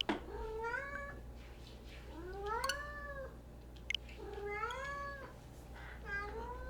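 Cat in the Paper Mario TTYD remaster video game meows four times in drawn-out, rising-and-falling calls, clear and close over a low steady hum, with a couple of brief clicks between.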